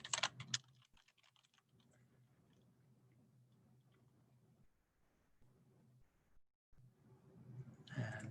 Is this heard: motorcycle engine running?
no